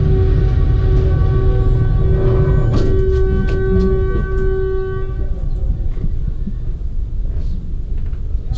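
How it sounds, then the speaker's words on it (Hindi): Pakistan Railways 349UP Chaman Passenger pulls into Kuchlak station, heard as a loud, close, heavy rumble of rolling stock with a long sustained horn blast that cuts off partway, then continued clanking and grinding as it slows. "349 अब चमन पैसेंजर जो है वो अप्रोच कर रही है कुचलाहा रेलवे स्टेशन पे।"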